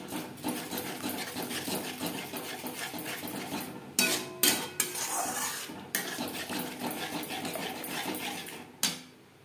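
Sour curd mixed into spices in a pan over low flame for pomfret fish curry, a dense close scraping and clatter of a spoon with several louder knocks against the pan, no talk.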